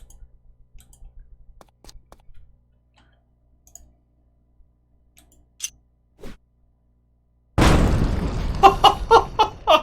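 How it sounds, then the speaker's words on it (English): Grenade explosions in the video game Vigilantes arrive as one sudden loud boom after a near-silent stretch of faint clicks, followed by a few sharper crackling bursts. "I love grenades. Oh, that's fun. Here, have another."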